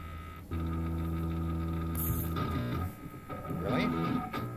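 An electric guitar plays through a bass-heavy effects preset with no echo, sustained droning chords followed by a short strummed phrase, fairly quiet.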